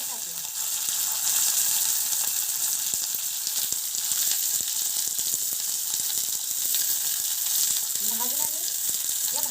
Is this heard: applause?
no